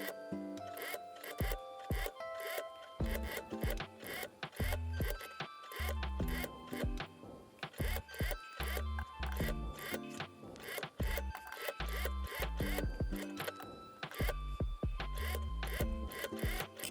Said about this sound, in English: I stitch very carefully along the pins because the fabric is very soft and unstable.